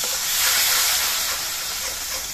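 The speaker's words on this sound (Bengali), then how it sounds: "এবার একটুখানি জল দিয়ে আমি মশলাটা কষিয়ে নিচ্ছি" Cumin paste and dried chili powder fry in a pan with a splash of water, giving a loud, steady steaming hiss and sizzle with no voices.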